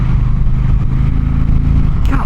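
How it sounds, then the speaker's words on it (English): Indian Challenger motorcycle engine at partial throttle, a steady loud low rumble that holds close and continuous, easing toward the end. "God, in that partial throttle hit, listen,"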